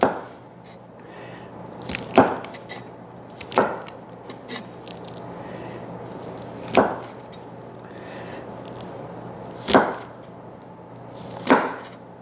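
Knife chopping wilted bok choy on a cutting board for wonton soup: a series of sharp, separate thuds spaced a second or two apart, close and fairly loud, with quiet scraping and handling between the strokes and nobody speaking.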